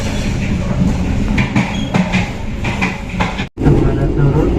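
A train waits on track 2 at a station on the Semarang route, with a steady low rumble and rattling clicks under platform announcements and voices, broken by a brief dropout.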